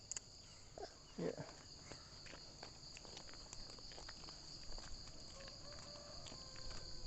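Crickets chirp steadily in an Indonesian village, a faint continuous high trill running throughout, with soft footsteps and rustling close by and a brief voice.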